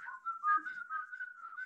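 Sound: child whistling

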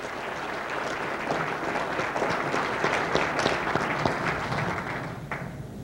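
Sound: audience applause

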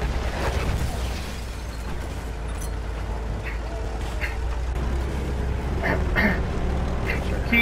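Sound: mortar explosions in Battlefield 1 video game

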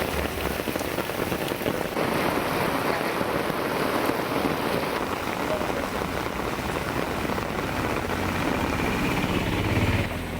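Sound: heavy rain falling

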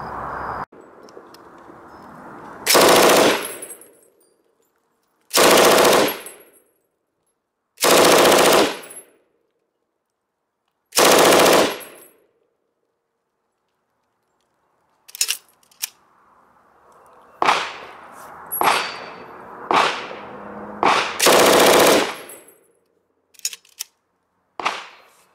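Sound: MG34 machine gun firing two drum bursts

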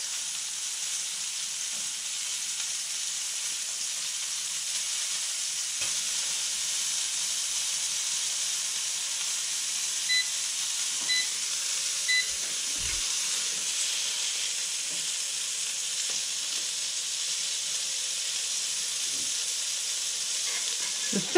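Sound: fish fillets frying in Roman sauce

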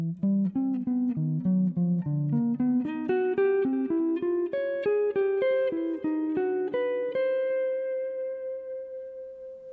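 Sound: guitar lick playing major triads in varied note order

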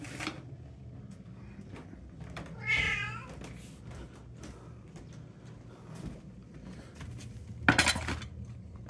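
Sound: cats at feeding time with food bowls

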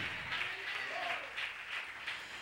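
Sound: church congregation hand clapping

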